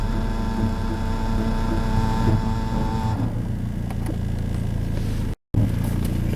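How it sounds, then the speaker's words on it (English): A Saturn S Series car's ABS pump runs with a steady mechanical hum and whine, then drops to a lower drone, with a brief cut near the end; close and continuous, no voices. "Pumps on right now."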